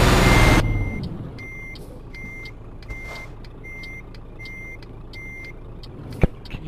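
A truck in Euro Truck Simulator 2 reverses, its backup alarm sounding a regular series of high beeps over a low idling engine rumble, after a loud burst at the start and a sharp knock near the end.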